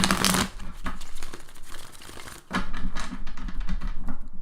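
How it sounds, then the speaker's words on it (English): Quick papery riffling and soft slaps of tarot cards being shuffled, close up, with brief pauses between flurries. "One more little shuffle."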